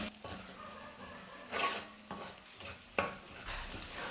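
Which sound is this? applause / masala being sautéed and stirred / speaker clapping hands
masala being sautéed and stirred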